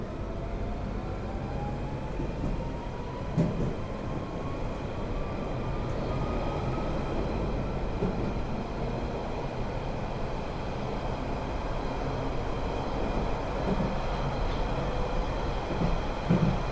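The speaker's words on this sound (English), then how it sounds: "This is a central line train to Hainault via Newbury Park." A London Underground Central Line train runs steadily through a tunnel. A dense, continuous rumble and roar is heard from inside the carriage, with a faint rising motor whine and occasional light clanks, and no voices.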